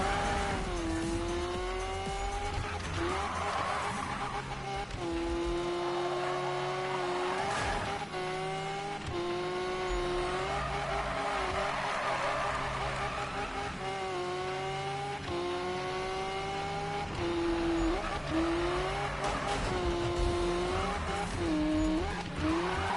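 Cars race and collide in a video game, with a steady engine roar, tire squeals and skids, and several sharp impact bursts spread across a continuous loud mix with no talking.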